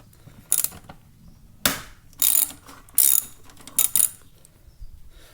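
A ratchet with a 10mm socket loosens a coil pack bolt on a 2003-or-later Infiniti G35, heard as five or six short, close ratcheting bursts separated by brief pauses, with no talk.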